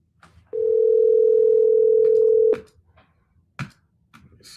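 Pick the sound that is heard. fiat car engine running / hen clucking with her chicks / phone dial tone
phone dial tone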